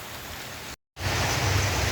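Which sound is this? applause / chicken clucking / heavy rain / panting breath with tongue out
heavy rain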